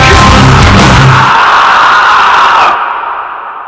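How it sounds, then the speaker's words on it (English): Screamed vocals sit in a dense metal song mix, a harsh, distorted wall of sustained shrieking and heavy instruments that blares loudly, then cuts off abruptly, leaving a fading tail. "we come out of the main riff, did some screaming on there"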